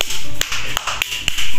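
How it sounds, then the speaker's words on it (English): A five-year-old child claps for herself, a handful of sharp, close hand claps spaced irregularly over a short moment, loud and dry against a quiet room. "Clap for yourself."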